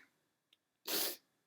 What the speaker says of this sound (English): I'm not crying, I just sneezed.